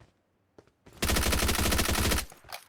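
A Bizon submachine gun in a shooting video game fires one sustained rapid burst of about a second, loud and close, with a couple of faint short sounds before it.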